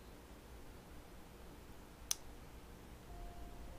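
A single sharp mouse click lands mid-way through near-silence while a Project Zomboid game sits at its opening credits, faint room hiss around it and a soft tone creeping in afterward.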